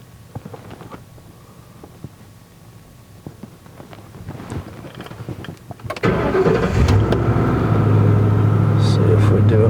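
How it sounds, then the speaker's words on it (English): A car engine cranks and fires about two-thirds of the way in, then settles into a loud, steady running idle after quieter handling noises, during an Xtool A30M diagnostic scan. "I'm going to start the engine and then see."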